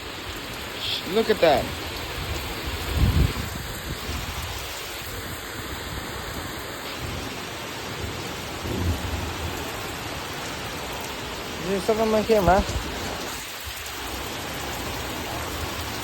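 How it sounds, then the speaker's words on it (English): Heavy rain pours steadily in a rainstorm, a dense constant hiss of drops close by, with a voice speaking briefly over it a few times. "Jeez, it is raining quite a bit."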